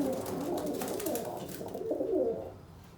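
Tumbler pigeons cooing close by in a coop, soft throaty murmurs overlapping in a continuous low burble that trails off at the end.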